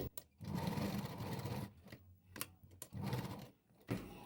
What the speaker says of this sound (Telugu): ఈ విధంగా కదలకుండా పట్టుకుని చుట్టూ స్టిచ్ వేసేసుకుందామండి.